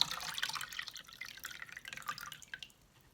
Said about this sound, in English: Let me dump some of this water.